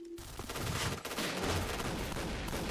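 Rapid gunfire rattles almost without pause in the Point Blank shooter, loud bursts from a K2C EBR-style rifle fight filling the moment after a brief quiet start.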